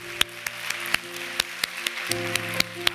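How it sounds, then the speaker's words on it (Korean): A church congregation gives scattered, sharp claps at a steady, loose rhythm over sustained keyboard or organ chords, moderately close and fairly faint. "우리 그렇게 인도하실 그 하나님께 감사의 박수 드리겠습니다"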